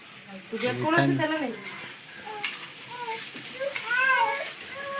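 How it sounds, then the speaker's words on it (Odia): Sliced onion sizzling in hot refined oil in a pan, a steady frying hiss running throughout while someone talks over it in the foreground. "ଫାଇନାଲି ଏବେ ରିଫାଇନ୍ ତେଲରେ ପିଆଜ ଏବେ ପଡ଼ିଲା।"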